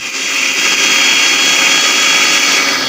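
A mixer grinder blends ginger chutney for homemade panipuri, with a loud, continuous high-pitched whirring that holds steady throughout.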